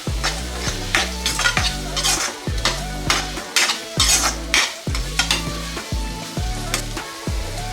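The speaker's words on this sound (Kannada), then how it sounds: "ಈರುಳ್ಳಿ ಸ್ವಲ್ಪ ಬ್ರೌನ್ ಆಗೋ ತನಕ ಇದನ್ನು ಇದೇ ರೀತಿ ಎಣ್ಣೆಯಲ್ಲೇ ಫ್ರೈ ಮಾಡ್ಕೋಬೇಕು" Finely chopped onions fry in oil until brown, a steady sizzle under repeated rhythmic scraping and clanking of a metal spatula against the pan, close and loud, with no speech.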